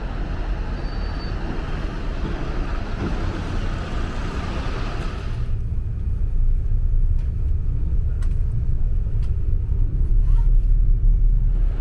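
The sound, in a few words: night bus arriving at Akihabara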